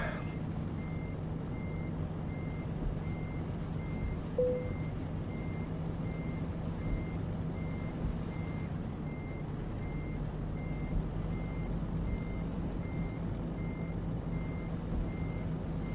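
A truck in Euro Truck Simulator 2 backs around building corners, its reversing alarm beeping in a steady, evenly spaced series over a constant low engine drone throughout.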